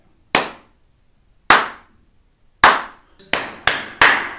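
Six sharp hand claps ring out in a room, each crisp and loud with a short decaying tail, spaced unevenly with the last few coming in quick succession, and no talking.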